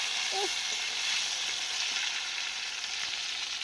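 Fish kalia frying in a pan, a dense, even hiss of hot oil sizzling steadily throughout, close and moderately loud, with a faint brief scrape early on.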